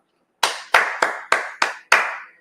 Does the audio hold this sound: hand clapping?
yes